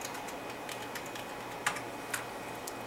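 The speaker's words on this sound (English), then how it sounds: "type in that IP address in the search bar" Faint, close keystrokes on a computer keyboard tap out an IP address into a browser search bar, scattered light clicks over steady background hiss with a couple of slightly sharper presses.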